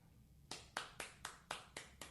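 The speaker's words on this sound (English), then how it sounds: "There's one that's just called fake applause." Sparse, rhythmic hand claps, about seven evenly spaced, like a thin canned applause effect with only one or two clappers, fairly quiet.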